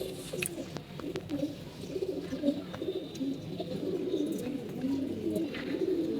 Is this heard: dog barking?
no